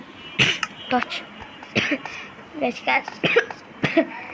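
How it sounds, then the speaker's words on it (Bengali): A series of short, sharp coughs and throat-clearing bursts, close and fairly loud, spaced irregularly, over Minecraft gameplay. "কাশি আসতেছে আমার"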